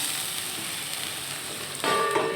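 Palta leaves frying with dry red chilli and panch phoron in a pan, a steady close sizzle that thickens toward the end as the leaves are stirred, with a light scrape and clink.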